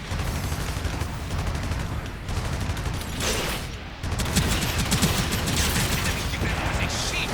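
Heavy booming cannon fire in a Gundam video game pounds continuously, dense blasts layered with clanking mechanisms and a busy battle din throughout.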